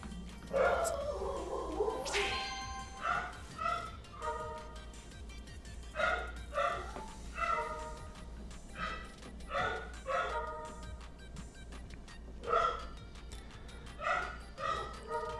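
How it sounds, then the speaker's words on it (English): A pet dog barks repeatedly in close, regular bursts, each a quick pair or triplet of yaps, steady and insistent indoors without talk. "Forgive my dog freaking out."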